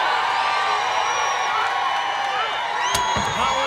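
Crowd cheering at the 2016 World's Strongest Man loading race, a steady roar of spectators under continuous commentary, with a sharp impact or slam near the end.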